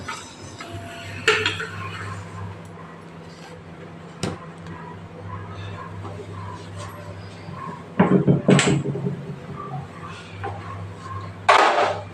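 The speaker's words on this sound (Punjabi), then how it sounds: "ਲੋ ਜੀ ਭਾਂਡੇ ਭੁੰਡੇ ਸਾਫ਼ ਕਰਦੇ ਆਪਾਂ" Dishes, pots and pans clatter now and then as they are washed and put away in a home kitchen in Punjab, with louder clanks of metal near the end, a dog whimpering and yipping faintly in the background.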